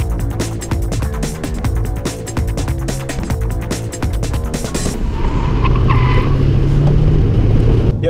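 A car fitted with Eibach suspension drives a test circuit, its engine rhythmically revving and pulsing loudly before the sound shifts to a steadier road roar with tire and wind noise.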